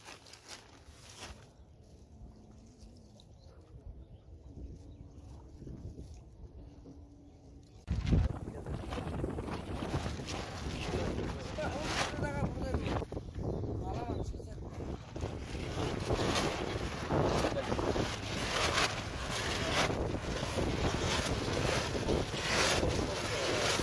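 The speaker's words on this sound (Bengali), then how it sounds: "কি স্পিডে নৌকা চলে যাচ্ছে" A boat races across open water. After about eight seconds of quieter lapping and engine hum, a loud, rushing roar of wind and spray begins and holds steady, with occasional voices in the background.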